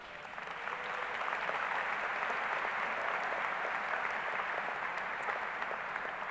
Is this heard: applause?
yes